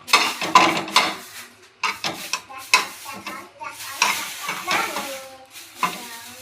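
Ginger, garlic and other ingredients roast in a pan with brisk, repeated stirring scrapes and a light sizzle underneath, the strokes coming in quick irregular bursts close to the mic.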